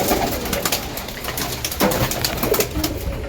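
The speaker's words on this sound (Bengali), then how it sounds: "এবার পায়রাকে সব একে একে খেতে দিয়ে দেবো" Pigeons coo continuously and fairly loudly at close range while drinking water mixed with a probiotic, with a few soft knocks; no talk.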